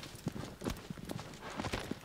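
Horse hooves clip-clopping in the Shadow of the Colossus video game, a fairly faint, uneven series of thuds in a loose galloping rhythm with nothing else prominent.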